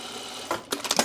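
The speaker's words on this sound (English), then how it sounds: "we're gonna put a little stitch around this one now" Sewing machine stitching around a pocket on a bias-cut dress, a quiet steady hum followed by a few short bursts of stitching near the end.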